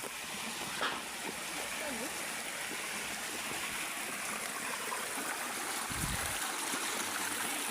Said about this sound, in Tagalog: ito yung source ng tubig ngayon dahil nag-uulan